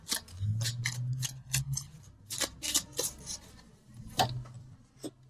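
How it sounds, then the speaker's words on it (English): Tarot cards are shuffled and one is drawn from the deck, producing a quick series of crisp papery snaps and flicks in an irregular rhythm, close and fairly quiet, with no talking. "So then let's pull a second card."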